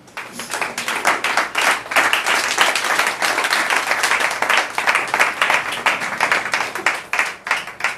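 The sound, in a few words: church congregation applauding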